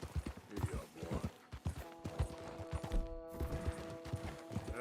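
Horse hooves clip-clop steadily in Red Dead Redemption 2, a rhythmic run of close thuds with a few snorts, continuing under background game sounds.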